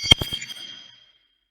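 A few quick percussive hits ring out into a heavy reverberant wash from a space-style reverb effect, fading away within about a second, leaving silence.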